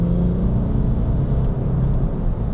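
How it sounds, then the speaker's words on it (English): A Jaguar XF, a two-ton rear-wheel-drive diesel, driven briskly on the road, heard from inside as a loud, steady low engine and road rumble with no gaps. "starting with spirited driving in a Jag XF"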